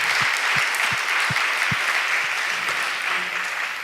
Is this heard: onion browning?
no